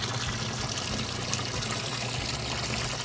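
Water from a newly built DIY backyard pond waterfall runs in a steady, continuous trickle and splash, close by and unbroken, with no talking over it.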